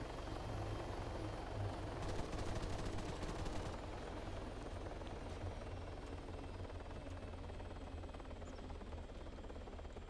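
Helicopter rotor drone runs throughout, low and steady, while rapid bursts of automatic gunfire crackle in the middle, all heard in an Arma 3 game with no talking.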